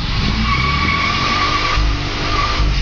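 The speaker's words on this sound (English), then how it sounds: "Line locking while you test drive." A Holden SSV Commodore does a line-lock burnout, its tyres skidding in a loud, sustained screech with the engine droning underneath, close up and without a break.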